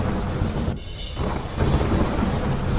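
Heavy monsoon downpour over the town and villages of Modasa, a steady loud roar of rain with rumbling thunder, briefly dipping then swelling back to full intensity, no voices.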